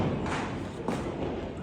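Firecrackers bursting in the distance, two muffled, dull thuds about half a second apart over a low, steady background rumble.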